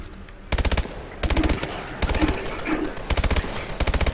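Bulldog shotgun firing in Call of Duty Advanced Warfare Exo Zombies, several loud bursts of rapid cracking shots separated by short gaps, close and punchy.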